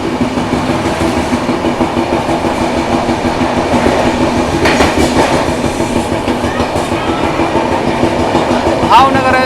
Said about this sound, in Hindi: Bhavnagar Ayodhya cantt express train को ओवरटेक करके हम लोग निकल चुके हैं आगे